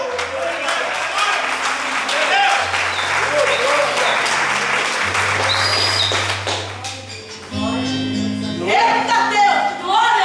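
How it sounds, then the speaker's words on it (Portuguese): A church congregation at a congress in a central temple claps over sustained organ or keyboard chords, the applause broad and steady, with a voice also audible through it. "Quantos podem aplaudir?"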